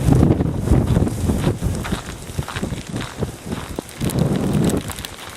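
Strong wind gusts buffet the microphone in uneven, rumbling bursts during a Christmas Eve blizzard in Oklahoma, loud and close throughout with brief lulls.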